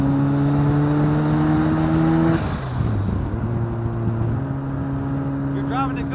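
A home-built Lotus 7 replica with a 400 hp turbocharged RX-7 rotary engine drives past, its steady buzzing engine note dropping in pitch midway, then holding a new tone and rising again near the end.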